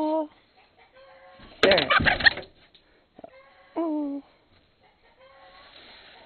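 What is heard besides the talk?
chicken clucking inside a house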